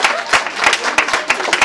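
A brief burst of crowd applause for volunteers at a pancake day event, many hands clapping in quick irregular bursts up close.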